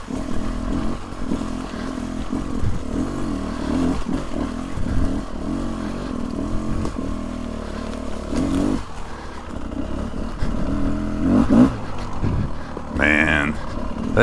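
A 2023 Beta 300 Race Edition dirt bike engine on an off-road mountain trail, a rough loud engine note that rises and falls with throttle and has some rattling clatter, while a rider talks over it.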